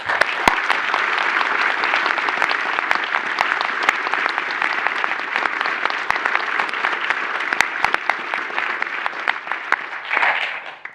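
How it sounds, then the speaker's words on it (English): A conference audience at an awards session gives a loud, dense round of applause, sustained hand clapping from many people for about ten seconds before tapering off. "So if we could all give a big round of applause to Philippa Gardner."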